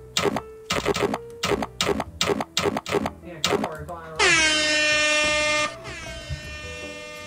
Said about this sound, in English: I'm gonna go ahead and sound my air horn.